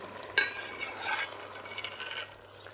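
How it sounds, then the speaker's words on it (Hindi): A spoon stirs rice for chicken mandi in a pot over a low steady hum, opening with a sharp scrape followed by softer, irregular swishing and faint sizzling, and no voices. "पानी सूखने तक हिला लेंगे इसको"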